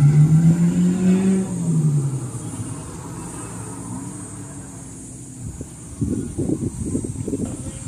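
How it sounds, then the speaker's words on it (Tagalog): A Kia car and a Honda Civic drag racing at the Batangas Racing Circuit start with a loud engine rising in pitch and fading, then a quieter stretch of distant rumble and wind before another car's engine revs in pulsing bursts. "Cool Ray going up against a Honda Civic right here."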